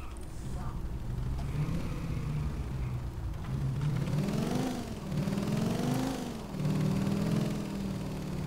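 Motorcycle engine in the video game GTA IV: The Lost and Damned revving up and down in repeated swells, each rise climbing then dropping, a mid-loud whine over game background noise.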